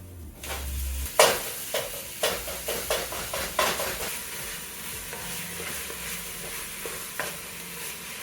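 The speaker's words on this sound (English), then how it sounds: "So you want to brown the meat a little tiny bit" Meat browns with onions in a frying pan over medium heat for a loaded chili baked potato, a soft sizzle under a series of sharp spatula scrapes and stirring clatters, close and fairly regular.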